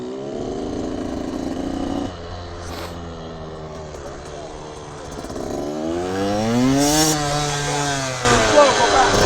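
A mini moto motorcycle rides at pace, its small engine buzzing loud and high, pitch rising and falling as it revs through turns and passes close by.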